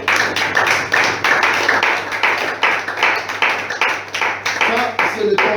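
A church congregation claps in quick, even rhythm to acclaim the Lord, the loud, close claps repeating steadily, with voices mixed in underneath.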